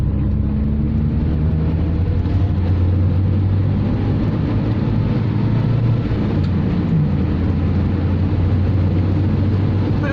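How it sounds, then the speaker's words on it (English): Rough-running engine of a 1977 Austin Maxi 1750 while driving, a loud, steady low drone with road and wind rumble filling the cabin, no talking. "rough sounding engine, it's not particularly pleasant."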